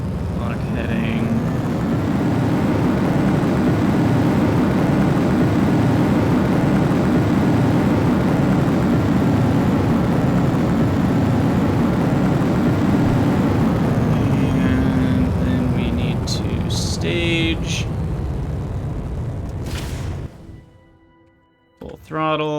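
A rocket engine roars steadily at full throttle during launch in the video game Juno: New Origins, a loud continuous rumble that holds for about twenty seconds before cutting off abruptly, with a few brief interface sounds near the end.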